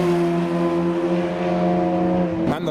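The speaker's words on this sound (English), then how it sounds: "Got the 992 GT3 warming up its tyres down the straight." A Porsche 992 GT3 warms its tyres down a track straight at a track day, holding a steady, loud engine drone that cuts off sharply near the end.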